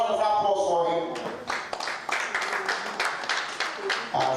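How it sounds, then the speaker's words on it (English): Applause at a Nigeria National League award ceremony as the season's best goalkeeper is honored, a crowd clapping steadily over several seconds beneath a presenter's voice. "Please a round of applause for him."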